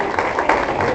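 A church congregation claps in a brief, dense burst of applause with a faint voice mixed in.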